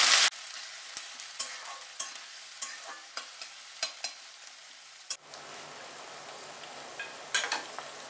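Onions frying in oil for a chicken dish, a soft continuous sizzle punctuated by regular sharp taps and scrapes of a spoon against the pan, with a brief louder burst midway; no voices.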